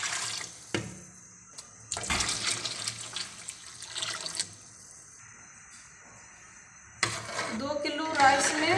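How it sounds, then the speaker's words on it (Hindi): Glasses of water poured into a cooking pot of rice and tomato for chicken pulao, in several splashing, gurgling pours with quieter gaps between them, heard up close. "अभी मैं पानी डाल रही हूँ, 10 गिलास पानी डाल रही हूँ मैं"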